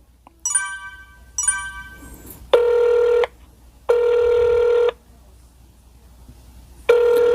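A phone call connecting to an unblocked number: two short rising connection chimes, then a repeating electronic ringback tone in long, evenly spaced bursts, loud and close with no talking.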